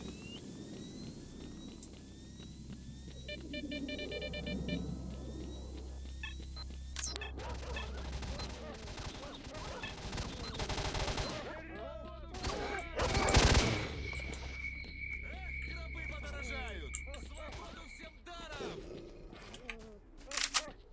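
Gunfire in S.T.A.L.K.E.R.: Shadow of Chernobyl crackles as bursts of rapid automatic shots, with a loud volley near the middle, mixed with animal-like cries and other game effects.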